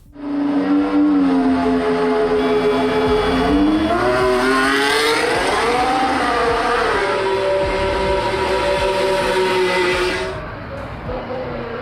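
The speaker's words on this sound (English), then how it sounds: "let's check out the sound of this mean Red Bull." A Red Bull Formula 1 car screams past during Barcelona pre-season testing, its loud, high engine note rising and falling through gear changes before fading away.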